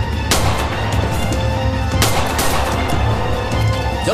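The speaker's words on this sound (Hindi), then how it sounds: "अभी गोली चलने की आवाज सुनी है" Two sharp, loud gunshot-like bangs about a second and a half apart over a constant low rumble.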